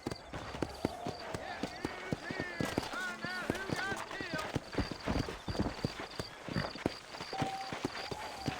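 Horses in the Red Dead Redemption video game clip-clop steadily along a trail, with sharp, rhythmic hoofbeats throughout, while someone talks over them and a horse whinnies briefly.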